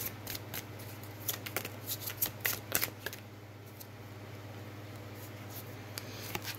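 Tarot cards shuffle and slap down in a burst of quick riffles and taps for about three seconds, then fall to a near-silent pause with a few scattered card sounds, close and quiet.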